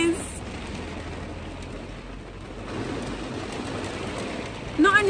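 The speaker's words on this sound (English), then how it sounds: "not only raining, but it is hailstorming" Steady, dense patter of hail and rain drumming on a campervan roof in a car park, constant and loud from start to finish, with a brief louder burst near the end.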